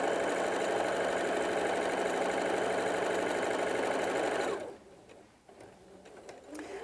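Sewing machine stitching a seam in hessian with a small stitch, a loud, fast, steady whirring buzz for several seconds that stops abruptly, leaving quiet handling noises.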